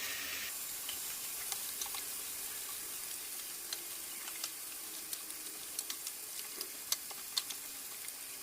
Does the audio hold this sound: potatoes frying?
yes